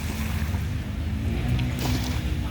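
A tourist ship out at sea off Pattaya beach gives a continuous low engine rumble with wind and water washing around it, steady and fairly loud throughout.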